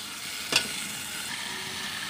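Pieces of ash gourd drop one at a time into a hot frying pan with shrimp, giving a sudden sharp crackle and sizzle that flares loudly and then eases into a steady frying hiss.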